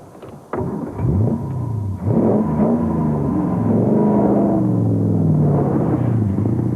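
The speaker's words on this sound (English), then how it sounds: "a turbine-like V8 engine" A Daimler Dart's 2.5-litre V8 engine idles with a low, smooth rumble, then revs up sharply several times, the pitch rising and falling in strong, close swells.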